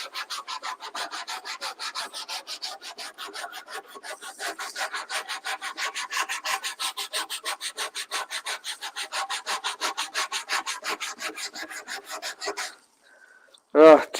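Steady hand sanding during a Ford F-150 underseat subwoofer box build, a fast, even back-and-forth rasp of abrasive on wood that runs continuously for about twelve seconds before a brief pause and a short sharp knock.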